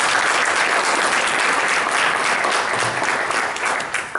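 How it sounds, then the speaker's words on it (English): An audience at a comics art awards event gives the artists a loud, sustained round of applause, dense and even throughout before easing slightly at the end. "Another round of applause for the artists."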